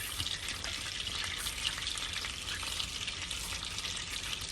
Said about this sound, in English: My butter is browning over here.